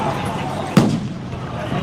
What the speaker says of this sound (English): People are lighting off fireworks here on the streets.